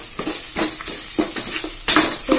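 Three chopped large onions stirred and sautéed in a hot pan, a steady sizzle broken by repeated scraping strokes of a spoon, close and fairly loud, with no talking.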